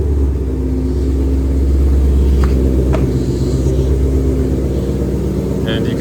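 A 2022 Shelby GT500 with long tube headers and a catless exhaust idles in a garage with a deep, steady, loud rumble, as people talk over it.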